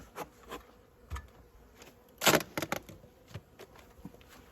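Honeybees hum at an opened hive as a beekeeper starts smoking the colony, a soft buzzing bed broken by scattered close thumps, rustles and scrapes of hive handling.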